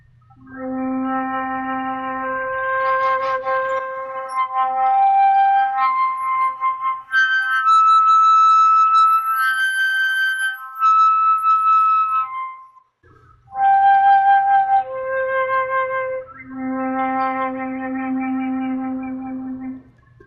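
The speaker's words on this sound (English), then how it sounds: "So I like to play overtones on the flute." A flute fingering a single low note from middle C, overblown up its overtone series so clear whistling tones step higher and higher before dropping back low, steady and close with no talking.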